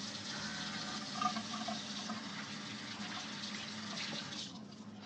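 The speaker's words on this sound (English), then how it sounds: "let me wash my hands first" Water runs steadily from a bathroom tap while hands are washed beneath it, a constant close splashing hiss that thins out near the end.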